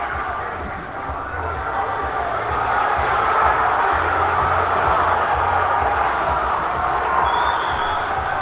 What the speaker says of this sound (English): crowd is getting amped